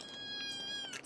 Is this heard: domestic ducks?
no